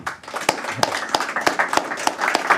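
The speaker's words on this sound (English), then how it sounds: "A round of applause for Richie" A brief round of applause from an audience at a business networking event in Glasgow, a run of sharp claps with an irregular rhythm, fairly close and moderately loud.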